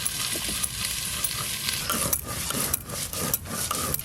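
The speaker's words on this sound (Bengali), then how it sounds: "একটু হালকা করে ভেজে নেব।" Potato and pointed gourd pieces for a fish curry fry lightly in a pan with a soft, steady sizzle, broken by scraping stirs and rubbing close by, with no talking.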